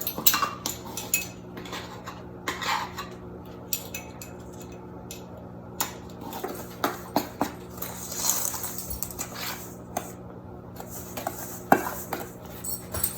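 A spoon mixes dry chocolate cake ingredients such as salt and baking powder in a bowl, with irregular metallic clinks and scrapes against the bowl, fairly close and quiet, continuing for several seconds.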